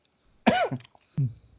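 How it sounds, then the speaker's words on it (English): A person with a lingering cold coughs twice, a harsh throaty cough followed by a shorter second one, close and loud in a quiet room. "I've had this cold for a while and this cough just won't go away"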